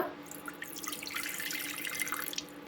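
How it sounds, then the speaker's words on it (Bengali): Water pours steadily into a pressure cooker holding chicken, a close, continuous splashing and trickling with no talking. "এই যে জল দিয়ে দিল।"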